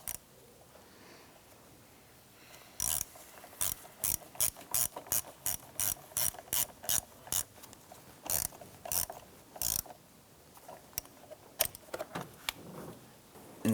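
Socket ratchet tightening the positive battery terminal clamp on a 2005-2007 Ford Five Hundred: a long run of crisp, close pawl clicks in quick irregular bursts, with brief pauses between strokes.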